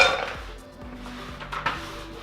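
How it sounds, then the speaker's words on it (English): Metal pots knock and clink as one is set on top of another over boiling water to make a double boiler, with a few light clanks and scrapes spaced out over quiet kitchen background. "take a pot and put it on top of another pot that's got some boiling water in it underneath"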